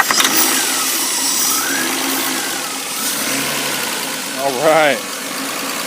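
An E36 drift car's engine turns over and then runs at a steady idle, loud and close, with a brief spoken word and a short rev near the end.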